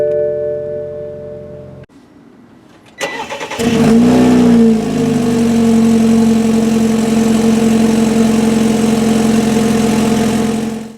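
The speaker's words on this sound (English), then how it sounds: "The way you start the 428 is make sure you have your foot on the brake, make sure the key is on the interior, and just click the start button" A 2016 BMW 428i xDrive Gran Coupe M Sport cranks briefly after a quiet moment and fires up with a quick rev. It then settles into a steady, loud, close idle hum.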